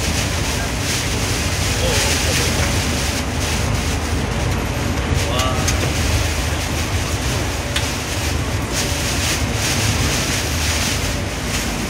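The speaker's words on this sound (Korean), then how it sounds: "우리는 지금 태풍 속을 뚫고 들어가고 있습니다." Roaring typhoon wind and storm buffet a car driving through it in rural Korea, a dense, steady rush of wind noise at close range, loud and unbroken throughout.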